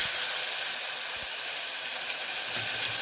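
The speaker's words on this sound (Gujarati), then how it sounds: "ટમેટાનો વઘાર કરી દઈશું।" Continuous hot-oil hiss and sizzle as tomatoes and turmeric are added to tempering oil, steady and fairly loud throughout, with no talking.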